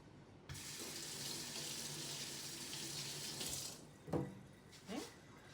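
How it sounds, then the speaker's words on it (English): A kitchen tap runs steadily as hands are rinsed under it, a soft continuous hiss of water that stops abruptly, followed by a couple of faint knocks. "I'm going to rinse my hands off a minute."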